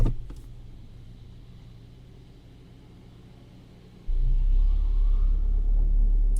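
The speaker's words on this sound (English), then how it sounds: "just gonna press the brake, put it in drive, and give some gas on it." A 2017 Hyundai Elantra with a drivetrain noise after an engine replacement is held on the brake in drive while gas is applied, producing a low idle rumble that steps up abruptly into a loud, steady droning roar partway through.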